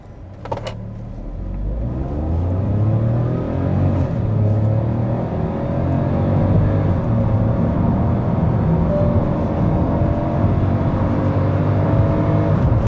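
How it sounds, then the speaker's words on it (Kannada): A Hyundai Venue N-Line in sport mode drives along a highway, its engine note rising and holding steady as a loud, continuous drone with road rumble throughout, and no voices. "ಸೊ ಫೈನಲಿ ಈಗ ನಾನು ಡ್ರೈವ್ ಮಾಡ್ತಾ ಇದ್ದೀನಿ ಹೊಸ ಹ್ಯುಂಡೈ ವೆನ್ಯೂ ಎನ್ಲೈನ್"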